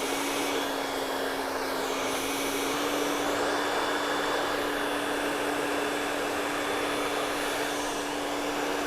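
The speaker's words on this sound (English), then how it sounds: "blow drying from the crown to the front at your state board during your state board blow dry procedure" A hair dryer blowing hair with a round brush during a state board blow-dry procedure, a loud steady whirring roar with a constant hum that holds unchanged throughout.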